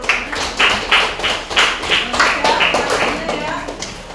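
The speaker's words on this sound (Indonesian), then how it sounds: "Tepuk tangan dong buat Asia udah bertanya." Sixth-grade classroom students clapping hands together in a steady rhythmic pattern, close and loud, repeated bursts in time with a faint voice underneath.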